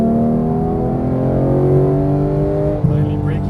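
A Porsche GT3 991 accelerating out of a turn on a driving course in Las Vegas, its engine a loud, close, steady drone that climbs slightly before a brief shift in tone near the end.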